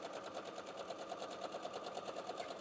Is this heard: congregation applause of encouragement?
no